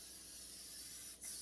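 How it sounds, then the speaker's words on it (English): Cooking spray hisses out in one steady pressurized burst from a can while pans are greased for kettle corn, close and fairly quiet, with a short pause near the end and no voices. "You're going to take some pans and you're going to grease them."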